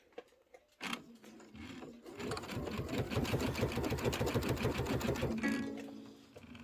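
A computerized embroidery sewing machine stitches out a Kimberbell Sweet Land of Liberty pillow design, starting with a thump and then running a fast, steady, rhythmic needle chatter at close range, with a faint voice briefly at the start.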